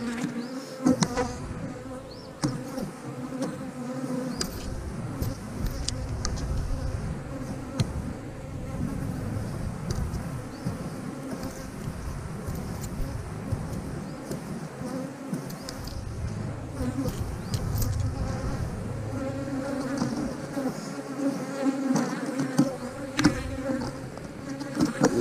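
Dense, steady buzzing of honey bees swarming close around an active eight-frame hive, a continuous loud drone that swells and thins slightly over time with no voices.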